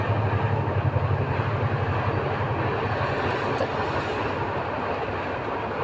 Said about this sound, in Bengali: এখানে যাচ্ছে ট্রেন ট্রেনের আওয়াজটা শোনা যাচ্ছে হয়তো